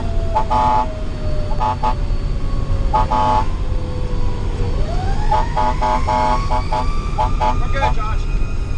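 McCalla Fire & Rescue Engine 1402's air horn honks in repeated loud bursts of varying length over a steady wailing siren and heavy road rumble, heard from inside the cab while the rig responds to an industrial accident.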